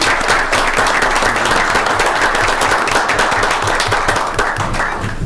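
A roomful of people at a township board meeting claps in sustained, dense applause from start to finish, loud and close with no talking over it.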